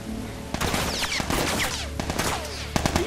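Gunshots in The Last of Us, a fast cluster of sharp cracks and bursts, loud and close, mixed with other in-game sounds.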